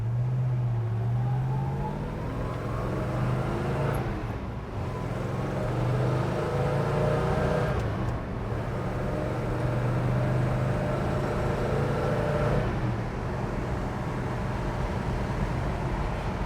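A 1969 Plymouth Roadrunner accelerating hard through all four gears on a road in Daytona, engine note rising in long sweeps with short breaks at each shift, loud and close.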